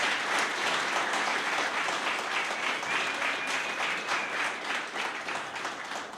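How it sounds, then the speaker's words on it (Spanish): Steady, sustained applause from an audience at an anniversary forum of a public administration institute, a dense wash of many hands clapping at once that holds level and eases slightly toward the end. "quisiera pedirles que les repitamos el aplauso más fuerte"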